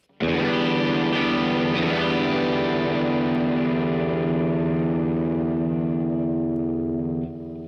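A sustained, heavily effected electric guitar chord rings out with distortion, chorus and echo, a brief slide down to G over a low E near the start, then slowly decays and cuts off.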